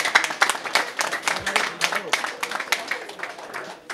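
An audience at a public address honouring the Rayon Sports women's football club claps in steady applause, rhythmic claps close by over a broader crowd, with a voice speaking at moments.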